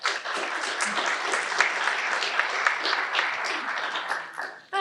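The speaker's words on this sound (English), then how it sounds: "A little applause in the middle is a great thing" Staff audience at a Trinity town hall applauding mid-report, a dense, even burst of many hands clapping from a room, sustained for several seconds before cutting off sharply.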